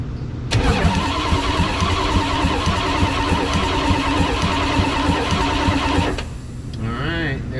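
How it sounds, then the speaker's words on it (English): A 1984 Dodge W150 truck engine cranks loudly and steadily for about six seconds at full throttle, turned over by a jumped starter relay, with a fast rhythmic chug before it cuts off and a brief whine follows. "You just opening up the throttle all the way, and then just jumping the starter relay."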